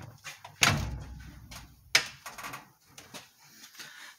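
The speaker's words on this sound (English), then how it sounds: "driver's side door shuts better than any door on this whole thing" A car's driver's side door shuts with a solid thunk, then a second firm slam follows a little over a second later, with quieter handling noises around them, on a car under restoration.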